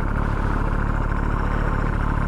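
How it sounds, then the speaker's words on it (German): A 125 cc scooter engine running roughly in Berlin traffic, a steady loud close drone with a coarse, uneven rumble throughout and no talk. "Der Roller hört sich aber nicht mehr so gesund an"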